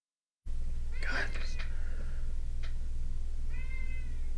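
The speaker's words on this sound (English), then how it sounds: "Shut up, cat." A house cat meows close by, one clear mew followed by a few softer chirps and a faint later cry over a steady room hum.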